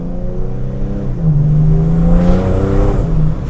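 A 2014 BMW 330d F31 Pack M estate with a Stage 2 tuned 3.0-litre six-cylinder diesel accelerates hard, its engine note rising through the revs in a loud, close, smooth drone with a brief dip near the end.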